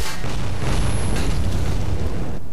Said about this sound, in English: What's all the explosions?